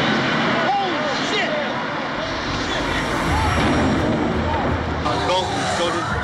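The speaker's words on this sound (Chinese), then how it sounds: "没料到一阵飞机低飞的声响传来" A low-flying airplane roars loud and continuous over a Manhattan street on the morning of 9/11, its engine drone swelling across the whole stretch with faint voices mixed into the street noise.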